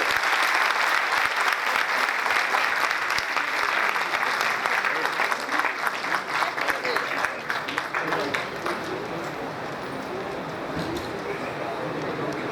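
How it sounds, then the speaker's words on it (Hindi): Audience at a motivational business event in India gives a long, dense round of applause that gradually thins and softens toward the end, with no voices over it. "एक बार जोरदार तालियां दीजिए"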